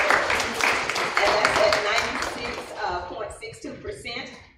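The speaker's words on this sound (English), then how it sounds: "So let's give Meharrin a round of applause" An audience at a school board meeting applauds Meharrin Elementary School with dense, steady clapping that holds for several seconds, then thins out and fades as a voice begins speaking.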